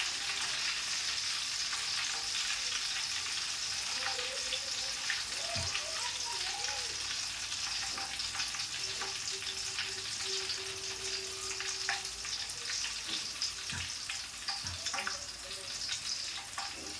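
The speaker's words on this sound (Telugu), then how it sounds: "ఇలా కొంచెం కలుపుతూ ఫ్రై చేసుకోవాలండి. వాటిని స్టవ్ మాత్రం చిన్నగా పెట్టి ఫ్రై చేసుకోవాలండి," Potato chips fry in oil over a low flame and are stirred now and then, a continuous fine sizzle and crackle with occasional soft scrapes and clinks, heard close.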